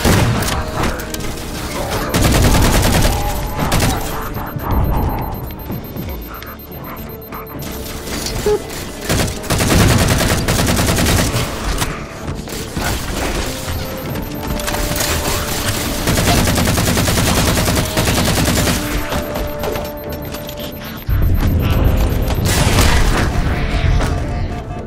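Grenade blasts and rapid gunfire in the Halo 4 video game, loud and nearly continuous with dense bursts of automatic fire and heavy booms throughout, briefly easing around the middle before surging again.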